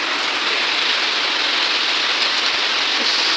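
Rain falling on surfaces, a steady, dense hiss of drops continuing evenly and loudly with no pauses or voices.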